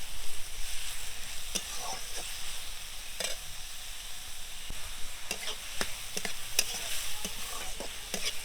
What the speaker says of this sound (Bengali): আমি পেঁয়াজের বেরেস্তাটা করে নেব।